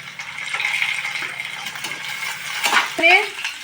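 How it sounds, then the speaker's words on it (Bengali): Chopped tomatoes hitting onions already frying in a wok, giving a steady sizzle with stirring scrapes and a sharper hiss near the end, close and moderately loud. "এবার টমেটো কুচিগুলো দিয়ে দিচ্ছি"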